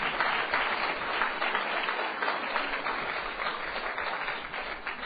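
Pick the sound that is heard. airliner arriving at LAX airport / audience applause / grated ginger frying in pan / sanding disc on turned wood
audience applause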